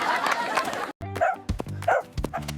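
A cartoon dog chasing a jogger lets out a few sharp, close barks after a short burst of noise, each bark clipped and distinct.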